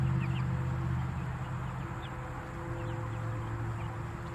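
A flock of mixed-breed egg-laying hens clucks softly and intermittently over a steady low background hum, with no voices.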